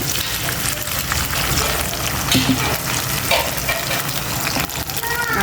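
Ginger and garlic fry in a pan with a little water, giving a loud, continuous close-up sizzle and bubbling hiss that holds steady throughout without pause.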